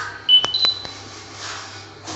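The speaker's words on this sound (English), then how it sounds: "It produces a beeping sound when you press image digitization." An x-ray machine's image digitizer gives a few short, high electronic beeps close by in quick succession, followed by a faint low hum.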